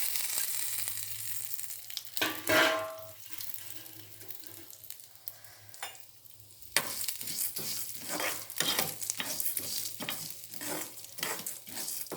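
Dried tamarind leaves roast in a pan over a low flame, giving a steady dry crackle and stirring scrape with repeated rhythmic scratches of a spatula in the second half.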